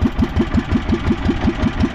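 A faulty, knocking boat engine chugs steadily nearby, giving a fast, even thumping pulse that runs without a break.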